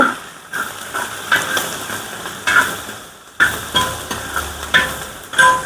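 Fenugreek and mustard seeds splutter in hot oil for a white lemon pickle: a steady close sizzle punctuated by sharp, irregular pops and crackles.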